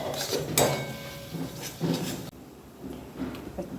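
A spoon scrapes and clatters against a pan while spices are stirred and fried for a chicken dish. The knocks come in irregular bursts, close by, with a faint background voice.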